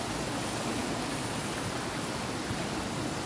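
Water pours steadily from a hose into a tank on Mt. Banahaw, a continuous close rushing splash with no pauses.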